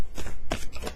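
Tarot cards riffle and slap together in a quick, close shuffle lasting about a second.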